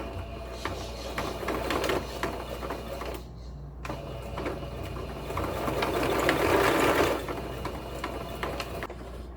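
A sewing machine stitches an Easter necessaire, its motor whirring in a steady loud run, stopping briefly midway before resuming with a rising, harsher buzz.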